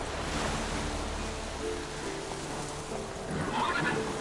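Roach, the horse in The Witcher 3, gives a whinny over a steady wash of surf-like ambient noise, the neigh rising briefly near the end amid open outdoor game sounds.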